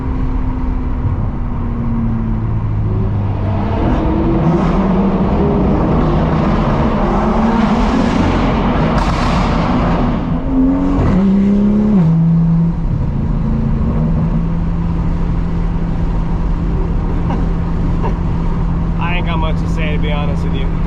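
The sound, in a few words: sports car engine revving during downshifts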